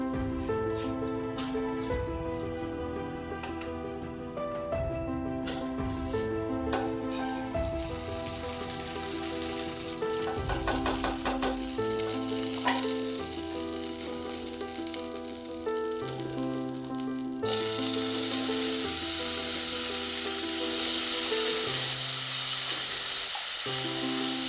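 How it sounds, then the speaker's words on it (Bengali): Broccoli frying in a small amount of oil for a winter vegetable curry, a steady sizzle that grows louder and fuller partway through, heard alone under soft background music. "এবার প্রথমে ব্রকলিটা একটু ভেজে নেব।"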